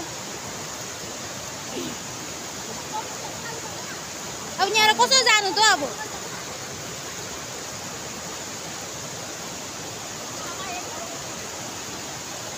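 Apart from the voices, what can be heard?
flowing river in a forest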